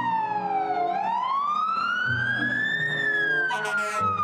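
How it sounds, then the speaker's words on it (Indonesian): A toy ambulance siren wails, sweeping down and then rising in pitch, loud and close, with a faint rattle near the end. "Wadidaw, ada mobil ambulan."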